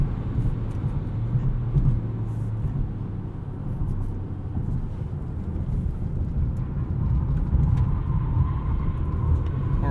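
A 2020 Volvo V60 T8 Polestar cornering in Polestar Engineered performance mode gives a steady low rumble of engine and road noise from inside the cabin. The drone rises slightly near the end, and no one speaks.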